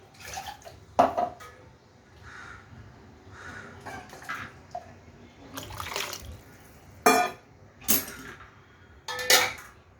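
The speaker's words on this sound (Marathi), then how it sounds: "तर हे पाणी टाकूया, आपल्याला जेवढं पाणी टाकायचं तेवढं पाणी टाकूया" Hot water poured into a pan of misal curry in a home kitchen, with sloshing pours and sharp clanks of a metal vessel at close range over a low background hiss.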